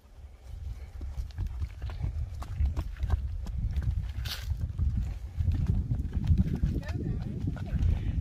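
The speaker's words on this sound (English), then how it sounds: "Beautiful mare, Mookie" A Hucul pony mare walking, her hooves clip-clopping in an uneven stream of soft, close thuds, with voices and background noise running underneath.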